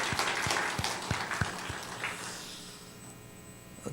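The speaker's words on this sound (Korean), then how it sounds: "이날에 예배하게 하신 하나님께 영광의 박수 한번 치면 좋겠습니다" A church congregation at a Christmas thanksgiving service claps, several steady rhythmic beats heard at a distance that soon thin out and fade into a quiet room.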